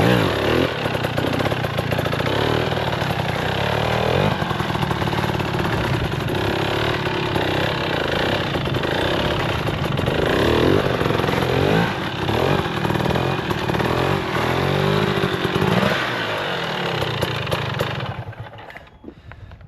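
An XC dirt bike engine revs hard while the rider lifts into a wheelie, a loud, steady, close engine roar running almost the whole time before cutting off abruptly near the end.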